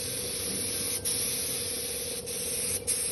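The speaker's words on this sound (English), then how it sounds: "we're just undercoating with a bit of rust inhibiting" Aerosol undercoat being sprayed onto the chassis of a 1975 Series 3 Land Rover during restoration, a steady close hiss with three brief pauses between passes.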